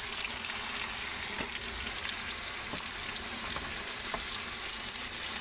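Sliced potatoes frying in oil until lightly browned, giving a steady, even sizzle throughout with a few soft clicks as pieces shift, close and continuous with no voices.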